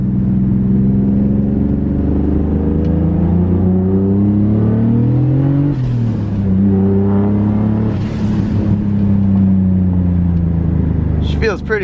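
Turbocharged BMW E34 with an M50 engine pulls under load, its steady engine drone rising and falling in pitch through a couple of short pulls, loud and continuous throughout.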